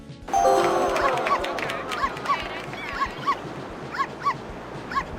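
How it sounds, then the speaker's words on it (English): A dog barks, yips and whimpers in short repeated bursts, fairly close, over a steady background wash; a video game dog in Wii Sports Resort. "your dog will get pissed and start violently barking at you"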